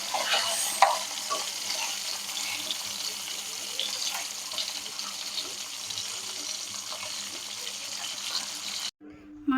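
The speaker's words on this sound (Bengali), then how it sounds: "মাছ যত কড়া করে ভাজা হবে তত কিন্তু সুন্দর হবে" Fish sizzles crisply in hot oil in a village kitchen pan while it is stirred, a loud, steady frying hiss that cuts off abruptly near the end.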